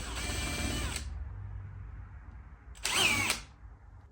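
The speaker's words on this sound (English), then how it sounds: "then I'm gonna countersink some screw holes" Two bursts of a power drill boring countersunk screw holes to mount a lamp on a wooden post for an outdoor Christmas decoration, a long whining run then a shorter one after a pause, close and loud.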